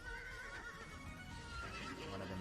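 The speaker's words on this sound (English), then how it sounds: "horses are starting to become fairly easy to tame." Horse neighing in the video game Legends of Aria, a steady whinnying call running across the whole stretch over a busy, constant layer of game sounds and music, close and fairly loud.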